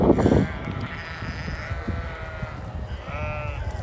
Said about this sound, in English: Farmer's just bringing in some more sheep over there.